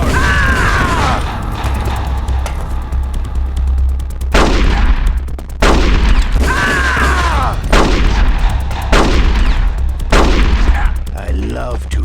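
Gunfire bursts from the Metal Gear Solid: The Twin Snakes video game, with loud shots repeating across the whole stretch, broken by a few brief pauses and layered over a steady low rumble of game background sound.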